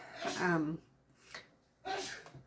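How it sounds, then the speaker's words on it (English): A man sneezes twice, sharp bursts with a brief breath between, somewhat faint and off to the side. "That's my husband sneezing."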